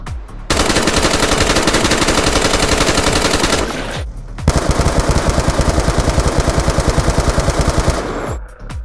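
Galil rifle in the Girls Frontline game, fired in two long automatic bursts of rapid, evenly spaced loud shots, separated by a short gap, alone without talk.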